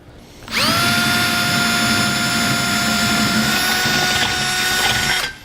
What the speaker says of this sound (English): Next, we want to finish drilling those holes to the size of a 1/2 inch.